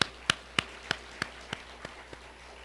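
A church congregation claps during a Korean sermon: about nine sharp, evenly spaced claps in a quick rhythm, fairly quiet and growing softer toward the end.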